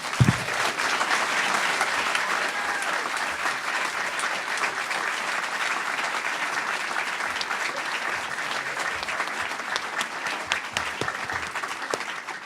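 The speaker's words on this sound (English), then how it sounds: "A big round of applause for our presenters" An audience at a PechaKucha presentation night in a theatre applauds its presenters, a sustained, even wash of many hands clapping that carries on for over ten seconds before slowly thinning.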